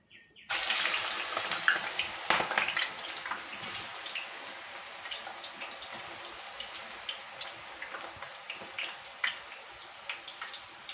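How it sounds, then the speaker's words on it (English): Thin banana slices crackle and sizzle as they drop into hot coconut oil, a sudden onset followed by a continuous soft bubbling fry with scattered pops, fairly quiet and close. "Now we are going to put the thin banana slices into this oil."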